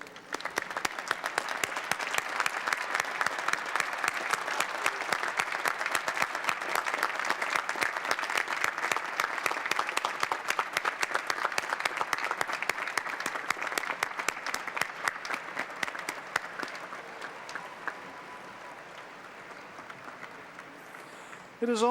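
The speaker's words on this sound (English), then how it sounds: "give them the applause they so deeply and richly deserve" Graduates at a 1994 MIT commencement applaud their audience of families: a large crowd claps loudly and densely for about twenty seconds, then the clapping gradually thins and fades away.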